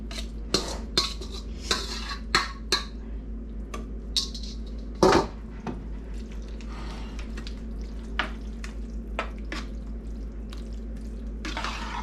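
A spoon stirs baked macaroni and cheese in a pan, with close, soft scraping and periodic metallic clinks and taps over a steady low background hum.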